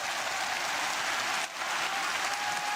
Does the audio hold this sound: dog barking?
no